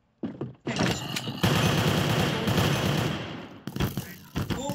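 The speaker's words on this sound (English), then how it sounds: "Oh my god, they have mini guns." A minigun in a Minecraft match lets loose a dense, continuous burst of rapid fire lasting a few seconds, preceded and followed by scattered sharper shots and thumps, loud and close.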